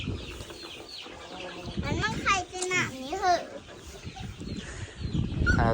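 Hens cluck close by with rising, warbling calls under a person talking, with rustling and a burst of louder noise toward the end.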